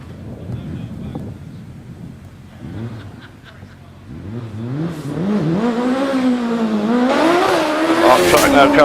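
A turbocharged Force TA 1300cc race car charges up a Prescott hillclimb, its engine faint at first, then rising loud and near in repeated revving sweeps through the gears, with a commentator talking over it.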